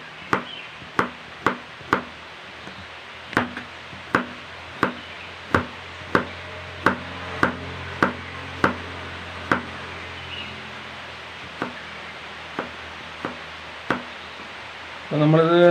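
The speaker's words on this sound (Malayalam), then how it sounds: "നൈസായിട്ട് പച്ചമഞ്ഞൾ അരിഞ്ഞെടുക്കുക" Fresh turmeric root being finely sliced with a knife on a board, giving a steady run of about twenty crisp, close chops at a regular rhythm, slowing near the end.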